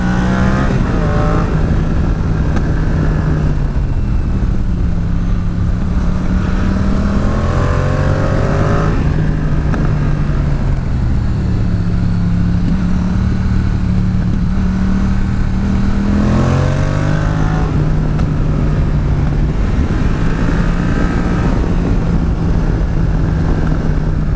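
A car lapping a test track, its engine note rising and falling steadily as it accelerates out of corners and eases off into them, loud and close throughout with no talking.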